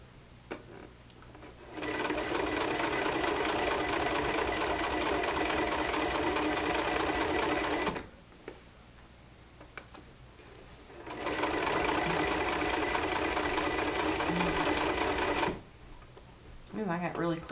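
A sewing machine stitches the seam of a zippered tote in two long steady runs of fast, even whirring, separated by a short pause with quiet handling sounds.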